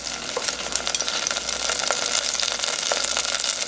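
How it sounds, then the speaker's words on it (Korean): Bean sprouts stir-frying in sesame oil in an open pan give a steady, close crackling sizzle with small pops, continuous throughout and without speech. "콩나물이 거의 다 익을 동안 볶습니다."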